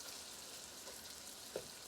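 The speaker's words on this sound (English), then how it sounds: "break this sausage up real well as it's frying." Sausage frying in a pan for homemade sausage gravy, a faint steady sizzle and crackle with one small pop near the end and no voices.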